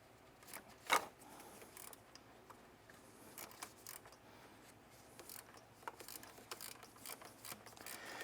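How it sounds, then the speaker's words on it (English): A dirty old ratchet wrench works on a BMW M62TU 4.4-litre V8 during timing chain service. Close, faint clicking ratchet strokes come in irregular bursts, with one sharper metallic clack early on. "The dirty old ratchet wrench."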